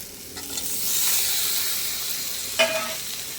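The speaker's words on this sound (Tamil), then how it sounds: "நல்லா வதங்கிடுச்சா, அடுத்து தக்காளியும் போட்டு வதக்கிடலாம்." Onion and tomato sauté in a pan for Chettinad vandakai pachadi: a steady close sizzle with soft stirring, then a brief sharper scrape of the spatula near the end.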